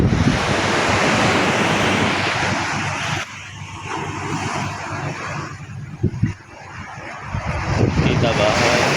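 Steady roar of sea waves and surf mixed with gusty wind buffeting the microphone, with a person talking intermittently over it.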